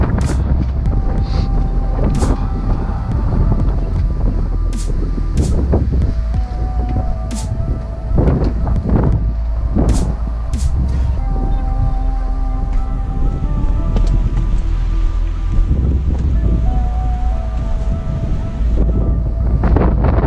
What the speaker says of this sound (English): You want some cold wind?